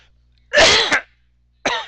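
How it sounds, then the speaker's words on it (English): Two close, loud coughs from one person, a longer harsh burst followed after a pause by a shorter one, in an otherwise quiet room. "Okay, sorry I coughed in your ear."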